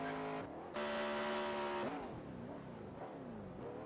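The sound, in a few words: race car engine with blown gear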